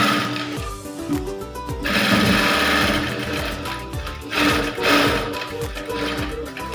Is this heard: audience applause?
no